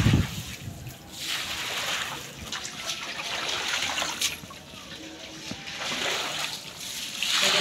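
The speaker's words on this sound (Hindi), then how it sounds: "इस पानी को निकाल देती हूँ ताकि ये जगह जो है ना साथ साथ सूखती भी रहे" Collected rainwater being scooped and thrown out at a village home during rain, giving repeated watery splashes and trickles in a steady rhythm, close by.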